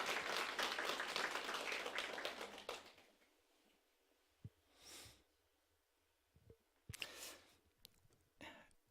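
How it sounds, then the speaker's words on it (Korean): A church congregation at a Friday praise service claps for the worship team; dense applause fills the first three seconds, then fades into a quiet room with a few scattered breaths and small noises. "여러분들이 격려하는 박수를 한번 쳐드리죠"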